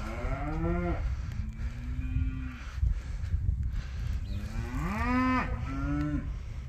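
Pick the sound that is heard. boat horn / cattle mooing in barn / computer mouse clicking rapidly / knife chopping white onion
cattle mooing in barn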